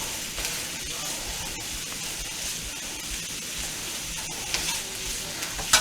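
Cajun grits with andouille sausage warming in a pan, a steady close sizzle and hiss with occasional stirring scrapes and clicks, moderately quiet and continuous.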